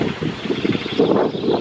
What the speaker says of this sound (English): Another big gust.